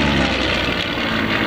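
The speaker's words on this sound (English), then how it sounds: "Now, Sean's going to try and do a horizontal 8" A loud, close propeller engine roars as an aerobatic airplane flies a horizontal eight at an air show, the drone steady and forceful throughout the brief moment.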